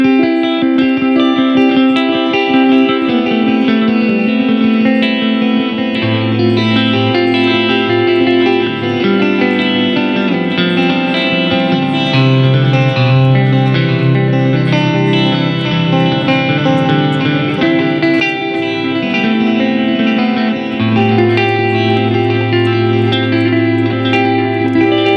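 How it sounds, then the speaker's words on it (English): Guitar played through the delay of an Earthquaker Devices Avalanche Run pedal with all knobs at noon, sustained notes and chords trailing into repeating echoes, loud and continuous throughout. "So let's put everything at noon on the delay. Hear what it sounds like."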